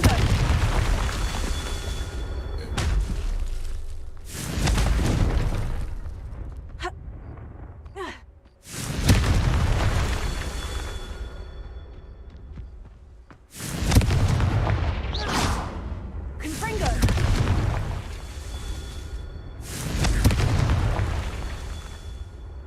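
Confringo fire spells in a Harry Potter video game, a series of heavy booming blasts, each followed by a rumbling decay, repeating every few seconds at close, loud range.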